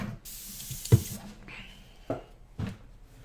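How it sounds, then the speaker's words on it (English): An airbrush sprays paint in several short, soft hissing bursts separated by pauses, with a few quiet bumps and clicks of handling nearby. "Get the airbrush going."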